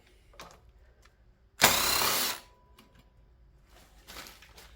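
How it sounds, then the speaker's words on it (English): An impact wrench loosens a bolt on the ignition coil of a 1985 Honda, giving one loud rattling burst under a second long, with faint clicks and handling noises before and after. "I'm going to be using an impact because I don't want to look for a ratchet."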